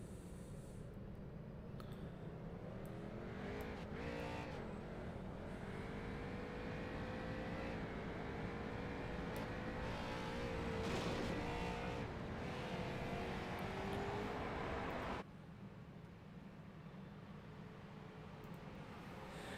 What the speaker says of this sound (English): And McDonald will start to roll